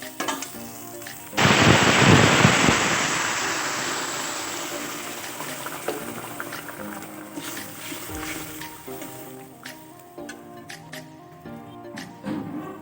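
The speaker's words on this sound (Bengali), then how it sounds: "এখন আমি এর মধ্যে দিয়ে দিচ্ছি ফুটিয়ে রাখা জল।" Boiled water hits a pan of frying spice paste for a Bengali vegetarian dhokar dalna, bursting into a loud, hissing sizzle that slowly dies down into softer bubbling and crackles.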